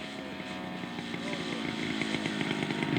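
A radio-controlled scale model aircraft comes in to land at a scale aircraft show, its engine a steady buzzing drone that grows gradually louder and nearer, with faint outdoor background noise.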